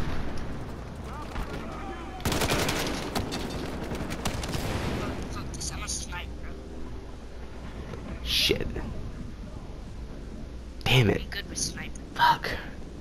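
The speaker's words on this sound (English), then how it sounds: "I'm getting sniped at." Gunfire in the Battlefield Hardline video game, with a dense burst of shots followed by scattered sharp cracks and impacts, while a player talks over the action.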